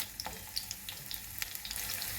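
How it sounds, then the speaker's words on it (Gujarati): Mustard seeds and long-cut green chilies sizzle and crackle in hot oil for a tempering, a steady close frying hiss dotted with sharp little pops and spits. "તેલ ગરમ થાય એટલે એમાં 1 ટીસ્પૂન જેટલી રાઈ, 3 થી 4 લાંબા કાપેલા લીલા મરચાં"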